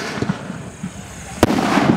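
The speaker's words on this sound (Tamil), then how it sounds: "வெடி முழக்கம்" A Sivakasi export firecracker explodes outdoors during firecracker testing at Kannivadi, one loud sharp blast cutting through a background of crowd noise and rumble.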